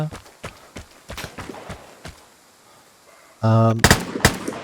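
Gunfire in the game Vigor cracks out in sharp, irregular single shots, followed by a loud sustained electronic tone and a few more close shots.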